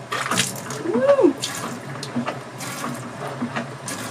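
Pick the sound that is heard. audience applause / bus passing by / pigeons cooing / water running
water running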